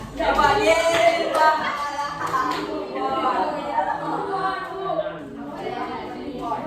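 A junior high school class in Bengkulu applauds a student named Irwan, with scattered hand clapping mixed with chatter and voices of students talking over it.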